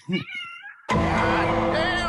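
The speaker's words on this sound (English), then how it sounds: "She meowed right when you were about to push the button." A cat meows once in a short, clear call near the microphone, then a sudden loud burst of broadband noise drowns out everything for the remainder of the clip.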